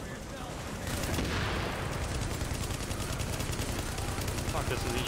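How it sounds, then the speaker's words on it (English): Incendiary gunfire in a video game, a dense burst of rapid shots rattling continuously through most of the clip over background game noise. "I just dumped a whole mag of incendiary in him"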